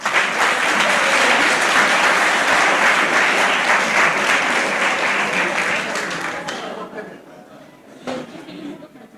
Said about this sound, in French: donc applaudissez-vous